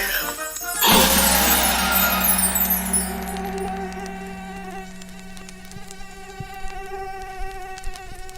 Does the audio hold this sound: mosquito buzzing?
yes